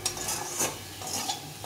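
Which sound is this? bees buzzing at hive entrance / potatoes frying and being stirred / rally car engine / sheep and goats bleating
potatoes frying and being stirred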